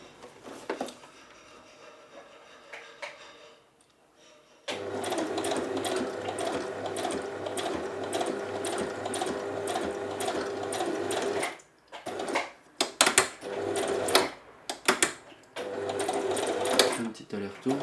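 A sewing machine stitches a jockstrap, starting with a soft hum, then running hard and steady for several seconds before a series of short, stop-start bursts as it sews back and forth to lock the thread.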